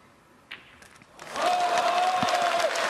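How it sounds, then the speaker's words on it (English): A crowd at a snooker World Cup final breaks into loud, sustained cheering and applause that swells up after a faint murmur and holds steady, with a sharp whistle running through it. "Well, listen to the cheer."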